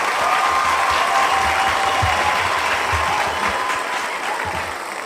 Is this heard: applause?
yes